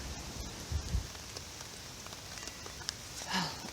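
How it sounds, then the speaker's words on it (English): Rain falls outdoors in a faint, continuous patter of drops, with a few soft thumps and rustles close by. "it's raining on me"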